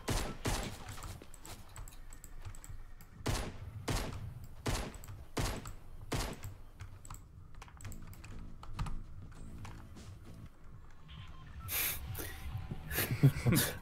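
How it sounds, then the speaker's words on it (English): Gunfire in a Fortnite Battle Royale match: a run of sharp, evenly spaced shots rings out loud and close, with a few denser bursts near the end. "I'm shooting you."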